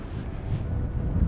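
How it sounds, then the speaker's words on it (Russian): Wind blows across an icy sandy shore with light surf, making a steady low rumbling buffet close to the microphone with no voices. "поскольку ветер и небольшой прибой"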